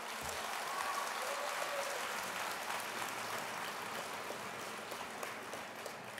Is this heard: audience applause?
yes